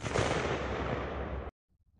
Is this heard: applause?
no